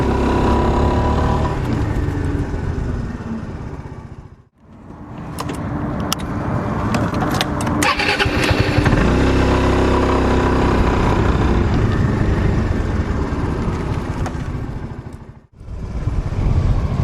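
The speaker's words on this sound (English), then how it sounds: "you just twist the throttle when you're ready to go" A Suzuki Burgman 400 scooter engine runs close by with a loud, steady drone that rises and falls with throttle, cutting out briefly twice, with sharp clicks and rattles mixed in.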